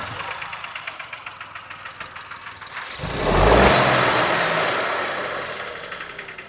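A Mahindra XUV 3XO TGD petrol engine with a tapping fault idles close by, giving a steady rapid ticking, then a short rev swells loudly and slowly dies away.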